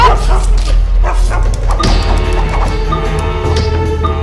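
Dog barking in the stealth video game Mark of the Ninja, a series of loud, close yips and barks over game sounds and a low rumbling background.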